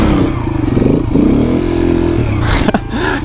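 A motorcycle engine revs close and loud during a one-handed wheelie attempt, rising and falling in pitch with throttle changes and ending in a rattly clatter.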